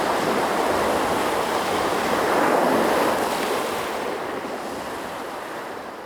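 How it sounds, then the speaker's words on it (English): Big open-sea ocean waves rush and surge in a loud, continuous wash with wind buffeting the microphone, swelling near the middle and easing slightly toward the end. "Those are big waves, they are quite impressive."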